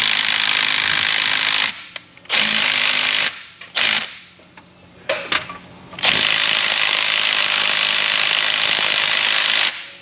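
A pneumatic impact gun hammers at a seized rear differential bushing bolt on an Infiniti G37, loud rattling bursts broken by short pauses, then one long sustained run at the end.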